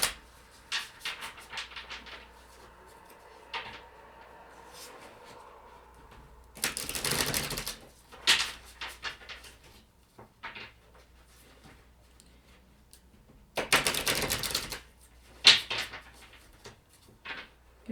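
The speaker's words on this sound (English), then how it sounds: "Something's telling me to shuffle this deck more than I usually" A tarot card deck being shuffled: bursts of riffling and flapping cards, with softer handling clicks and taps between the shuffles.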